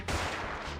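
Gunfire in the video game Parasite Eve 2, a single loud burst with a sharp onset that fills the whole range and then holds as a dense roar for under a second, with no voices over it.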